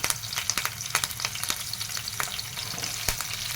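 Curry leaves crackle in hot oil as a tempering for idli upma, with dense sizzling and sharp spitting pops close up, plus some stirring, and no talk over it.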